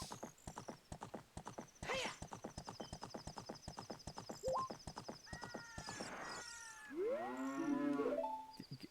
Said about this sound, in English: Can you let me get off of my horse, please?